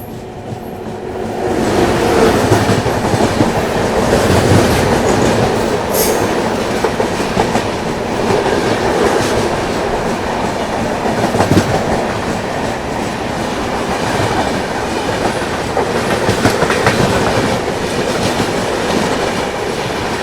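The Garib Rath Express runs along the rails with a steady, loud roar and rhythmic clickety-clack of its wagons heard from inside, continuous for the whole stretch.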